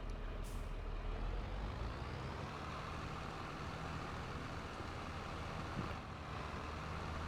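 Truck pulling a straw trailer backs up in Farming Simulator 22, its engine a low steady rumble with a short hiss of air brakes near the start and another near the end, fairly faint.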